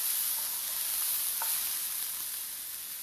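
Spinach, tomatoes and mushrooms sizzle in a small skillet, a constant bright hiss of frying that stays loud and even throughout, with a faint tap or two of a utensil.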